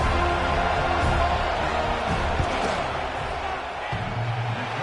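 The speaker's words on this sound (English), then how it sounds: "This crowd trying to do its part to get inside the kicker's head." Football stadium crowd roaring steadily as the field goal unit lines up for a kick, a dense, continuous wash of noise from many people with no single voice standing out.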